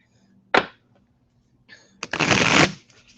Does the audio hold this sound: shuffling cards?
yes